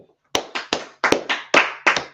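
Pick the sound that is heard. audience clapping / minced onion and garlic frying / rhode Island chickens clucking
audience clapping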